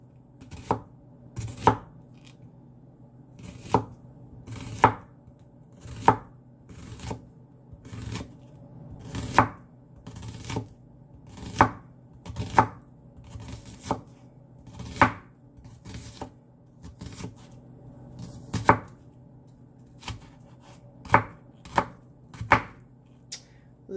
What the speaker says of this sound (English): I need to chop up the onion. The onion needs to be diced.